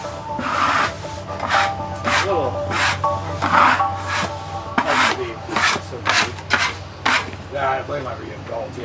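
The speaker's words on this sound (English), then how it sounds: "we scraped off the sawdust, revealing the gorgeous patterns beneath" Sawdust scraped off freshly milled damp wood slabs, repeated rasping strokes in a steady rhythm, close and fairly loud over a low machine hum, with a voice faintly underneath.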